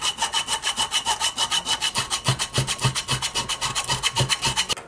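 Rhythmic back-and-forth rasping of a blade carving and rounding a wooden clothespin into a fishing lure, a steady series of close scraping strokes with no talking.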